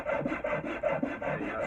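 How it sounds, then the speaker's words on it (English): A Nicholson wood rasp strokes steadily across an American elm handle, giving a rhythmic rough scraping of about six even passes, close and fairly loud with no talk. "I flip right over to my Nicholson wood rasp, and I just smooth out all those lines"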